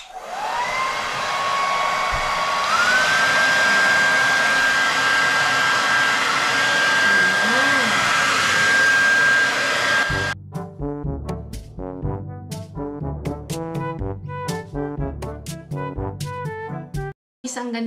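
A Remington hair dryer brush blows with a loud, steady whirring hiss for about ten seconds, then shuts off, and a person talks afterward.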